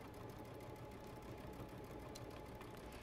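A sewing machine stitches steadily along a quilt block being made into a clutch, a continuous faint mechanical whir with a fast even pulse and no breaks over three seconds.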